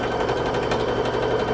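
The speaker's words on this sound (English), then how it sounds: "we're going to use a 1/4 inch seam as normal, and sew" A sewing machine stitching quilt fabric with a quarter-inch seam runs steadily and loudly throughout, a close continuous whirring hum with rapid rhythmic needle pulsing.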